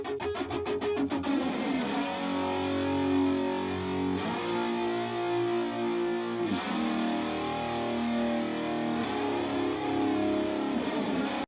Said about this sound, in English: washy, chorusy 80s guitars, and they sound like this